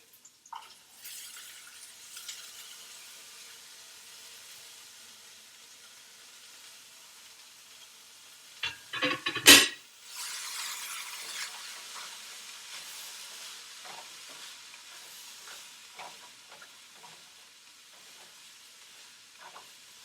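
Zucchini and bok choy stir-frying in a pan, a soft, steady sizzle and hiss, broken midway by a sharp metallic clank and followed by lighter scraping and stirring.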